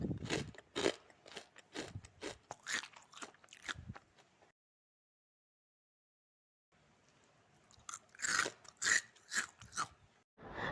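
Crunchy homemade fried tofu is bitten and chewed up close, in loud crisp bursts of rapid crunches, then a silent pause of a couple of seconds before another round of crunching.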